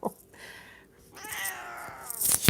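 A cat meows in two drawn-out calls close by during a birthday sing-along at home, the second meow longer and rising, with a brief noise at the end.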